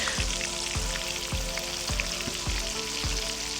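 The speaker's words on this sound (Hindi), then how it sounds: "दरमियानी आंच पे हम इसको फ्राई करेंगे" Chira fish frying over a medium flame at home, a steady bubbling sizzle broken by regular low thumps, close and moderately loud.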